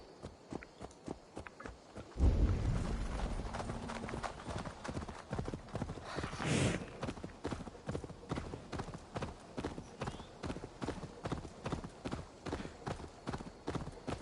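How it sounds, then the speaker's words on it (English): Rhythmic clip-clop of a horse's hooves in the video game Assassin's Creed Valhalla, a steady running beat that carries through the whole stretch, with a brief louder rush of sound early on. "It's amazing how fast her horse decides to run when I'm trying to listen to a conversation."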